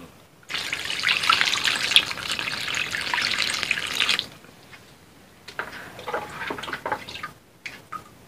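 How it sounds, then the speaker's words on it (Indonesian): Water is poured from a dipper into cakue dough mix, making a steady close splash for about four seconds, followed by fainter, scattered trickles and drips. "Ini sekarang kita tinggal masukin airnya aja ya."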